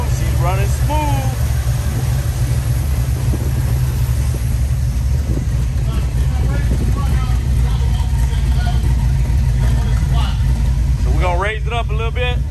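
A 1973 convertible on 28-inch wheels idles with a deep, steady low rumble throughout, close and loud, while people talk over it.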